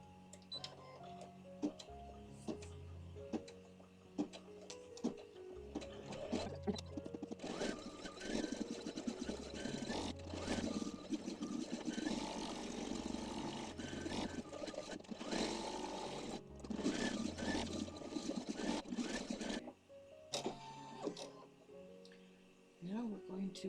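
An embroidery machine stitching a basket design in the hoop, a rapid mechanical whirring and clattering with shifting rhythm that runs nearly continuously, fairly close, with a voice talking over parts of it.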